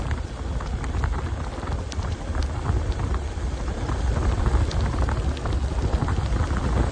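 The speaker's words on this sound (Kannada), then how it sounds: "ಸೊ ಫೈನಲಿ ಮಳೆ ಬಂತು ಗಾಯ್ಸ್." Steady, dense rain falls during a motorbike ride through Kudremukha, a continuous close hiss with patter that stays loud and even throughout, with no voices.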